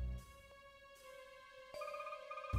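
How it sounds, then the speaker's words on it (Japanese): A telephone ringing in the Jake Hunter detective game Ghost of the Dusk on 3DS, steady electronic ringing tones that stop and restart in clear bursts over quiet background music, with no voices. "その時電話の音が鳴り響いた。"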